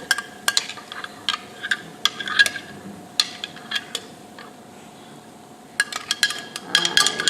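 A fork stirs a vegetable medley quiche mixture in a bowl, giving irregular sharp clinks and ticks of metal tines against the dish, with brief pauses between bursts of stirring.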